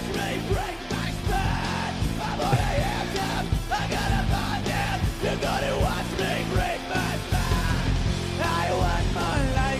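Loud live scream from a basement show, a sustained yelling vocal carried over dense, constant band music that fills the whole stretch without a break.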